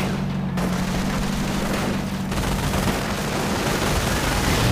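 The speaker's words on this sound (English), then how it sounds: "Grenade does go off" A grenade going off amid battle in the strategy game Europe in Ruins, set in a WWII-style fight with infantry and tanks: dense, continuous booming and crackling gunfire, loud and unbroken, with a sharp burst near the start; no talk.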